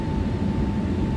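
ToLiss A321neo airliner on its takeoff run in X-Plane 12, a steady, loud broadband engine roar with a constant high tone running through it, sustained and unbroken throughout.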